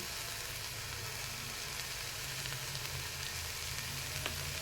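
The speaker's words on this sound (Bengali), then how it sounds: "এবার মশলা আমি সুন্দরভাবে ভেজে নেব" Spice paste with chili powder, green chili and salt frying in oil for a pointed gourd and shrimp dish, a steady close hiss of sizzling with faint scrapes, no voices.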